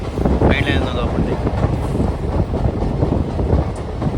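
Sabari Express train running fast on the main line, a dense continuous rumble and rushing wind roar close around the microphone, with a brief high squeal early on; no clear talk.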